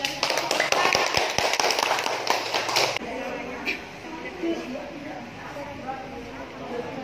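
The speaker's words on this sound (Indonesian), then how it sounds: "Tepuk tangan buat Lois." Children clap in a classroom, a dense burst of applause for about three seconds that then stops abruptly, leaving quieter room noise and faint voices.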